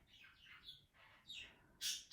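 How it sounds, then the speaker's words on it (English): Birds calling overhead while circling, a few faint chirps and squawks spaced irregularly across two seconds, with a louder, sharper call at the end and no talk. "Birds are circling. Look."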